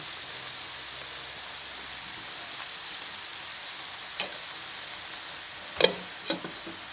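A steady, soft bubbling sizzle of chicken boiling in Sprite soda in a pan, with a few sharper clicks and clatters of utensils near the end.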